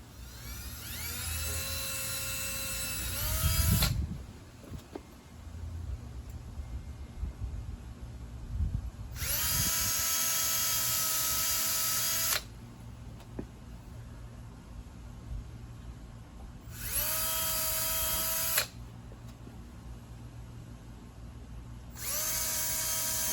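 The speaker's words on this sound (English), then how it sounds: "let's start our pre-drilling with a very small bit" A power drill pre-drills repurposed grain box wood for a flat deck with a very small bit, running in three separate high-pitched whining bursts with pauses between them, close and loud.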